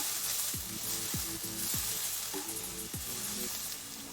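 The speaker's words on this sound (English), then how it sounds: "So while the noodles are cooking, we're just going to finish frying that up" Instant ramen noodles frying and searing in a hot pan, a steady close sizzle with a few scraping knocks of a utensil stirring them, no talk.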